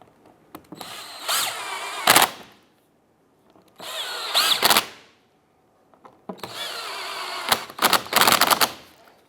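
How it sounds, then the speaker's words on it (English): A power tool, an impact driver or drill, tightens bolts on the front bumper cover of a 2005–2007 Ford Five Hundred. It comes in three loud separate bursts of whirring and rattling, with short pauses between them and no talk. "let's tighten down the 3 bolts on the front"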